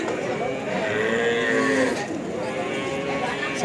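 Cattle at the Jatirogo livestock market moo in long, drawn-out calls amid a busy crowd, with people chattering close by throughout.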